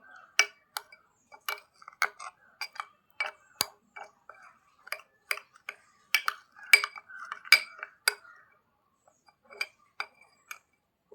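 Spoon clinking against a bowl while mixing a papaya, honey and red sandalwood face pack, a run of sharp, irregular ticks and taps, close and fairly quiet, with brief pauses between strokes.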